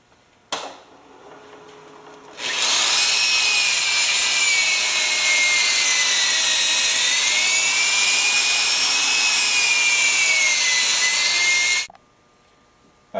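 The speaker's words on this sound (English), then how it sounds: "I finished sanding it down to 400 grit sandpaper." Steady, even rubbing of 400-grit sandpaper against wood, a continuous bright scratchy hiss lasting about nine seconds, with quiet room tone before and after.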